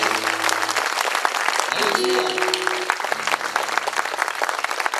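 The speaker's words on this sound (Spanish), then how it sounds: "Le damos un fuerte aplauso." A church congregation breaks into strong applause and cheering, steady dense clapping throughout with sustained tones and voices mixed in, a spoken exclamation heard over it.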